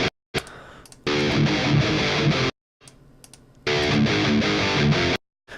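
Two loud bursts of heavily distorted electric guitar chugging through Planet Tone Custom Vintage PAF pickups, separated by short silences and a quieter muted passage.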